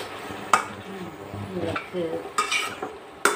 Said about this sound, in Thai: ตามด้วยผัดใบกะเพรา